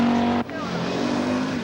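A four-wheel drive rally car corners hard, its engine droning loud and steady with a sharp drop in tone partway through as the throttle lifts, then settling back into a sustained rumble.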